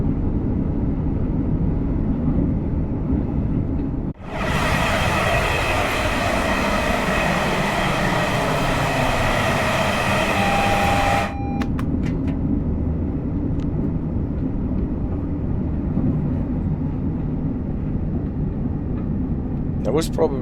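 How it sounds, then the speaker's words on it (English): A BR Class 807 Evero train coasting on the West Coast Main Line through the Trent Valley gives a constant loud cab rumble, broken by a burst of roaring rush lasting several seconds and a short tonal beep. "Can probably just let the train coast anyway."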